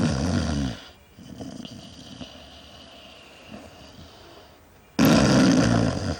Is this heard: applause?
no